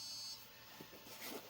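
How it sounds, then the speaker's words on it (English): A Prusa XL multi-tool 3D printer gives a faint, short electronic beep as it prompts for filament loading, quiet and alone against low machine hum. "Now it's beeping at me to fill it."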